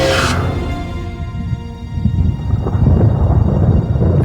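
Thunder from small thunderstorms fed by hot, moist air from an extreme heat wave in Mexico, a loud low rolling rumble that swells and lingers with rain-like hiss, no voices.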